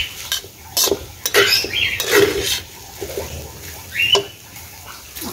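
A spatula scrapes and clanks against an old wok while fried rice is stirred, in irregular metallic strokes and scuffs, close and moderately loud, with quiet gaps between bursts.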